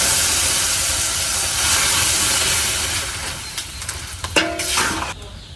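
Chopped Malabar spinach dropped into hot oil with fried garlic in a village kitchen, a loud, steady hissing sizzle that gradually settles, followed by a few clinks of utensils.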